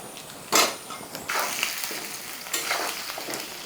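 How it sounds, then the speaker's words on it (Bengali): Onions and potatoes fry together in a pan, a steady close sizzle with louder bursts of crackle each time the pieces are stirred or tossed. "পেঁয়াজ ভাজার সাথে আলুগুলোও দিয়ে দিলাম হালকা ভাজা হয়ে যাক"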